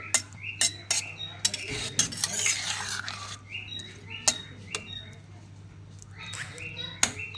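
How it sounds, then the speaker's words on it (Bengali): A spoon scrapes and clinks against a pan while drumstick and potato posto curry is stirred, giving sharp metallic taps in irregular bursts, close and fairly quiet, over a low steady hum and a faint bird chirp. "খুব ভালো করে সঙ্গে নেড়েচেড়ে মিশিয়ে নেব"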